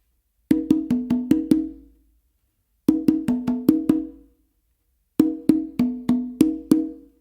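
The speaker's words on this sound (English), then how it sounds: "So I basically start this pattern with 2 opens with my dominant hand on the conga" A conga played with the dominant hand in a melodic tumbao pattern of open tones: three separate bursts of five or six ringing, pitched slaps, close and clear, with silent gaps between them and no talk.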